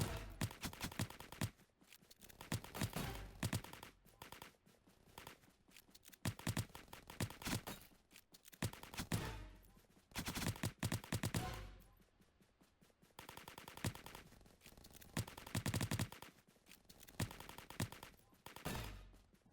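Glock pistol fire in the online game Bopz.io, repeated sharp gunshots in rapid bursts separated by short pauses, with other game sounds mixed in.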